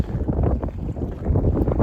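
Strong spring wind buffets the microphone on a boat during pike fishing, a loud, steady low rumble with gusting surges and no speech.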